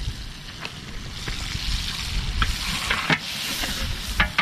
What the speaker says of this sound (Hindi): और अब यहाँ लग रहा है तड़का